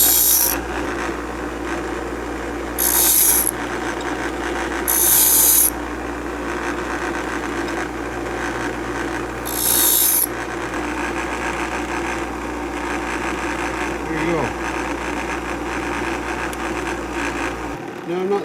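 Steady grinding rasp of a drill bit being sharpened on a bench grinder, with a motor hum underneath and short bright bursts of contact.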